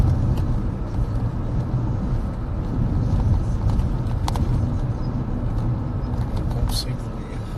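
Car interior while driving, a steady low engine and road rumble running throughout under a person talking.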